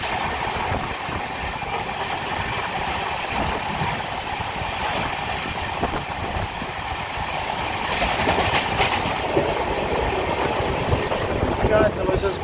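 An Indian Railways train rolls through a railway station in monsoon weather, heard from on board as a steady rumbling roar with wheel clatter that swells louder toward the end.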